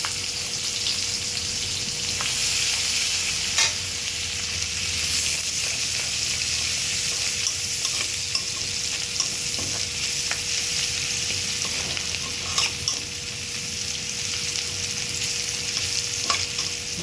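Chopped onion and cumin seeds fry steadily in hot oil for a Bangladeshi rui fish and bottle gourd curry, giving a continuous close sizzle with scattered crackles and occasional stirring clicks, with no talking.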